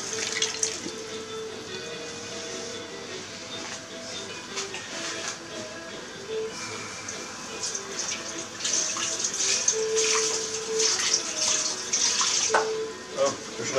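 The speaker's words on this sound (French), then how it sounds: "Et puis là, on rajoute notre marinade." Marinade being poured into a pot of wild boar stew: a soft, continuous trickle and splash of liquid builds gradually over several seconds, with a voice speaking faintly in the background.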